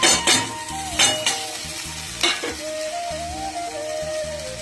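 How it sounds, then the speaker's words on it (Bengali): Okra and potatoes fry in a pan in a home kitchen with a steady sizzle. Several sharp metallic clinks from a stirring spatula sound close by, and a thin tonal hum runs underneath. "আর হবে ভেন্ডি আলু ভাজা। আমি ভেন্ডিটা এখন দেবো।"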